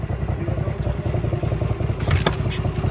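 A motorcycle with trouble starting on its electric starter and a connecting rod due for replacement is fired up and runs with a rough, thumping idle close by, with a brief clattering burst partway through.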